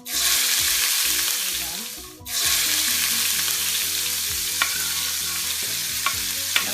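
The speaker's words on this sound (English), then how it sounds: "you're gonna put in the onions to saute them." Chopped onions dropped into hot bacon grease in a pan, a loud burst of sizzling that dips briefly then settles into steady close frying with occasional stirring clicks and pops, no talking.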